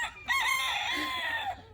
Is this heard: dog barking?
no